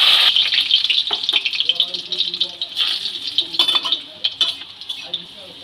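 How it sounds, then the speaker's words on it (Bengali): Garlic cloves, eight to ten of them, dropped into hot mustard oil in a wok sizzle and hiss steadily throughout, with occasional clinks and rattles of a utensil stirring against the pan. "সরষের তেলটা ভালোভাবে গরম হয়ে গেছে। তেলের মধ্যে 8-10 কোয়া রসুন তেলের মধ্যে দিয়ে দিলাম।"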